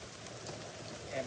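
Rain falls steadily at a Muar River boat jetty in Malaysia during a prawn fishing trip, a soft constant hiss on the surface with no voices, rising slightly at the end.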